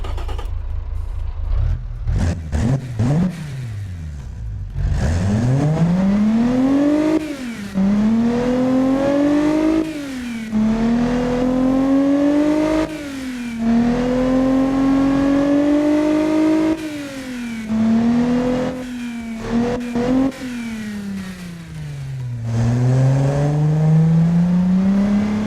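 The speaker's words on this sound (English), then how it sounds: "let's hear this new intake" A tuned car engine fitted with a new intake system revs repeatedly, each pull rising smoothly in pitch before dropping back, a loud, close series of several sweeping revs with brief pauses between them and no talking.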